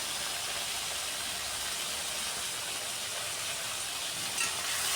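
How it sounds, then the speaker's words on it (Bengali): Ground turmeric, cumin and red chilli powder sautéing in hot oil for a rohu fish curry, a steady, close, even sizzle and hiss throughout with no talking. "সব কিছু দিয়ে একটু সময় কষিয়ে নিতে হবে খুব ভালো করে"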